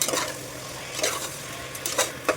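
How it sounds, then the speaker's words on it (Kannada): Onion and mushrooms frying in a pan, with a soft continuous sizzle and a few bursts of stirring scrapes from a spoon against the pan, close up and without any talking. "ಅದು ಸ್ವಲ್ಪ ಫ್ರೈ ಆಗಿದ ಕೂಡಲೇ ಮಶ್ರೂಮ್ ಕೂಡ ಹಾಕ್ಕೊಳ್ತಾಯಿದ್ದೀನಿ"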